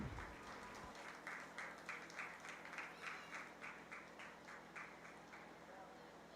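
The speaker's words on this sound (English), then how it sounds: "give them another round of applause" Applause at a 4-H fair meat goat show in Carroll County, 2021: a steady, moderately distant patter of clapping from the show crowd, with rhythmic pulses and some livestock or arena noise underneath.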